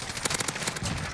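Rapid bursts of automatic gunfire in a shooter video game, a fast rattling string of close, loud shots running straight through with no voice over it.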